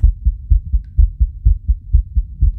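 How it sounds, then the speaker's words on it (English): In the indie horror game ROMUT, a loud, deep heartbeat thumps in a steady double-beat rhythm, about two beats per second, heard alone and close. "there's a heartbeat."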